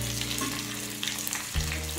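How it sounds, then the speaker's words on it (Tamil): Chillies and crushed garlic fry in hot oil with already-popped mustard seeds for a greens and brinjal sambar, a steady close sizzle with a brief stronger hiss near the end as more goes into the pan. "கடுகு பொரிஞ்சிருச்சு, மிளகாய் சேர்த்துக்கிறேன்"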